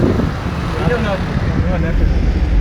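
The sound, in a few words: Lahore road traffic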